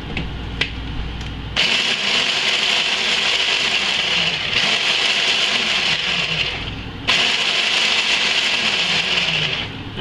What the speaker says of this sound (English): You can do this in a coffee grinder or a mortar and pestle, anything like that.